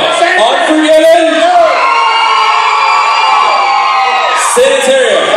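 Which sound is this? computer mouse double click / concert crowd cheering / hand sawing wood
concert crowd cheering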